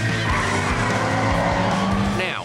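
The Ghostbusters car, a movie vehicle, skids with a loud sustained tire squeal over a rumbling engine for a couple of seconds, ending in a rising whine.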